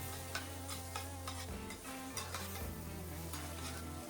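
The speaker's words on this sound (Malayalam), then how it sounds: "സവാള അരിഞ്ഞത്, നന്നായി ഇളക്കി കൊടുക്കുക" Chopped onions being stirred in hot oil for a chicken fry, giving a steady sizzle broken by scraping and tapping of the spoon against the pan.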